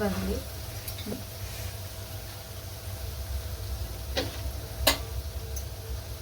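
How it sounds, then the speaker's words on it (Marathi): Jalebi fry in hot oil, making a soft steady sizzling hiss broken by a few faint ticks and pops. "मस्त असं दोन्ही बाजूने असे छान जिलेबी आपण तळून घ्यायचे"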